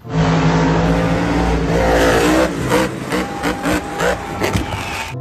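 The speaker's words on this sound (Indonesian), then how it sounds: "Wow, lihat ada mobil truk monster." A toy monster truck gives a loud, close engine-like revving roar with rising and falling surges, then a few choppy bursts as it fades slightly toward the end.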